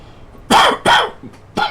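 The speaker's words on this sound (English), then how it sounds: "Oh, now I got a cough." Three or four harsh coughs in quick succession, loud and close, with short gaps between the bursts.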